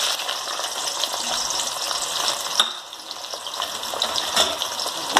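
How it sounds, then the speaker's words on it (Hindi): Onions dropped into preheated oil for chicken shahi qorma, a bright close sizzle with a sharp crackle midway and steady spitting throughout, no voices. "ऑयल हमारा प्रीहीट हो चुका है, अब हम इसमें प्याज डाल देंगे"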